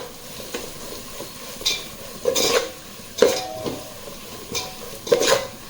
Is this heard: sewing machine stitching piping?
no